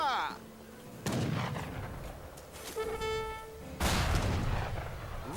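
Heavy gunfire and artillery in a PC war game: two loud booming blasts about three seconds apart, with a droning horn-like tone and scattered shots in between.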